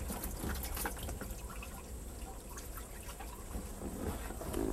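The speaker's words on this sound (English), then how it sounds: "you see the water coming out there already?" Water draining from a boat engine hose into the bilge during winterization, a soft, continuous trickle with scattered drips, faint and close, with no talking.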